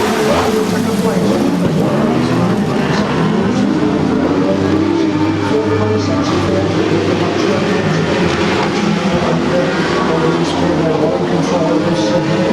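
Sidecar speedway motorcycles roar around a dirt track in a loud, dense, continuous engine wash, with a commentator talking over the racing.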